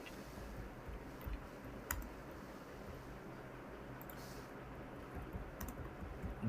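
Light, faint tapping on a computer keyboard comes in sparse clicks over a low room hum while an address is entered, no speech.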